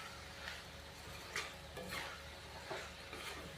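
Potatoes and capsicum being stirred and fried in a pan, soft scraping strokes repeating every half second or so over a faint steady sizzle, quiet and close.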